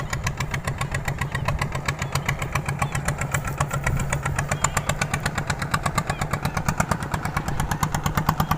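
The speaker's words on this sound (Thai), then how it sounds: "อยู่ใกล้รถไถครับ" A tractor engine chugs steadily nearby, its loud rhythmic thumping continuous and unbroken throughout, with no voices.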